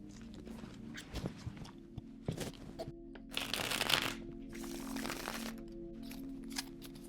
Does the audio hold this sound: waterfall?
no